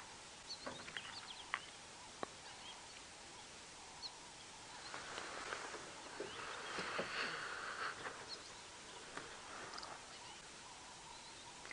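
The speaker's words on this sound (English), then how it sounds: "listening to the dawn chorus" Faint outdoor dawn chorus at sunrise on a safari drive: scattered calls and chirps from several birds, distant and quiet, with soft clucking sounds mixed in.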